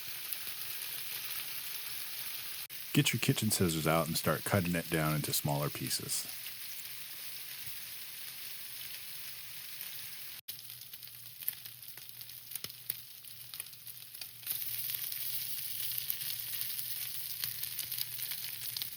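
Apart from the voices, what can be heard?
chicken sizzling in a frying pan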